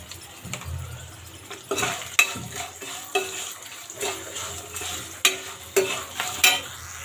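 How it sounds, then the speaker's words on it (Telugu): A spoon stirs a sizzling tempering with turmeric and salt in a pan for raw mango pulihora, making irregular sharp scrapes and clinks against the metal over a low frying hiss. "వేసుకుని ఒకసారి బాగా కలిపేసుకుందాము"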